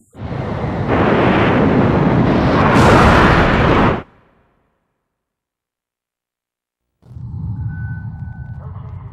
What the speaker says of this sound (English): The SSTO is climbing smoothly.